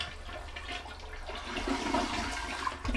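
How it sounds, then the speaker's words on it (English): A household toilet flushes as it drains, giving a steady rushing gurgle of water at moderate volume for a few seconds with no one talking. "we're going to flush the toilet"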